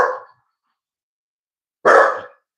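A bully breed dog gives two loud, close barks, one at the start and a second about two seconds later, with silence between.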